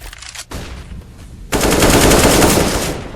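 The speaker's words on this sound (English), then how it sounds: "Supersys finds him, takes him down with that AK-47" AK-47 gunfire rings out in a competitive first-person shooter esports match, a few scattered shots followed by a loud sustained burst of automatic fire.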